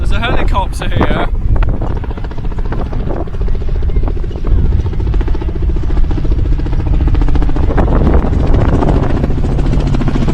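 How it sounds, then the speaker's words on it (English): Helicopter at the Fir Park Wings and Wheels show, a steady whirring rotor and engine drone held under loud wind buffeting on the microphone, continuous throughout as people talk nearby. "There's a helicopter here."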